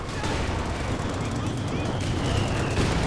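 Machine guns chatter in a strategy game battle, a steady distant rattle of automatic fire with explosions mixed into a continuous din of combat.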